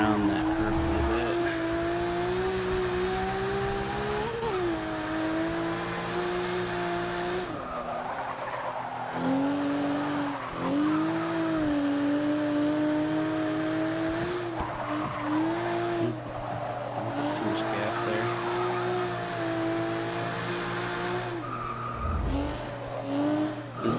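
A Ferrari 250 California races in Forza 6, its engine note rising and falling through repeated shifts and revving, with tire squeal through corners, loud and continuous throughout.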